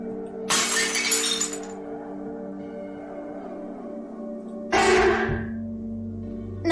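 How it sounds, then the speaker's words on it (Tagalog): A drinking glass slips while dishes are being washed and shatters on the floor, with a bright crash followed by a second burst of breaking glass a few seconds later, loud and close against a low background hum. "Biglang nahulog ang baso na kanyang hawak-hawak."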